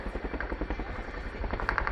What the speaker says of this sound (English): the aircraft's now departed with an over-the-shoulder transition